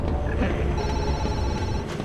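A telephone rings inside the horror zoo game Zoochosis during a night zookeeper shift: a thin, high electronic ring over a heavy, rumbling ambient drone, lasting about a second.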